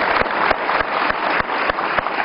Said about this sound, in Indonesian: Kita kasih tepuk tangan dong untuk Fajar.